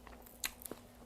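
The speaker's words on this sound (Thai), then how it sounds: "กินลูกข้างพี่น้อง" Quiet crunchy bites and chewing on barbecued ribs with spicy papaya salad, close to the mouth: one sharp crunch followed by a few softer chews against a faint low hum.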